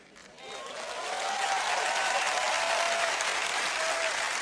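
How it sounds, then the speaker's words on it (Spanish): Audience applause in a hall, starting light and quickly swelling into sustained, dense clapping that holds steady at full strength. "Y cuando alguien comienza a aplaudir,"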